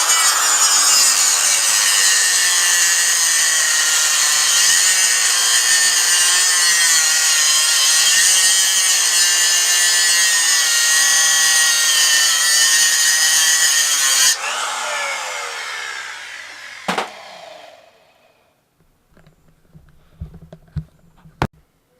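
A 10-inch metal cutoff saw grinds steadily through an AC compressor held in a small 6.5-inch vise, a loud sustained whine that cuts off sharply and then spins down, followed by a few faint clanks.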